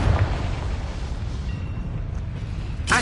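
A Confringo blasting spell goes off in Hogwarts Legacy on PS4: a heavy booming impact at the start, decaying into a rumbling tail, then a brief bright burst right at the finish.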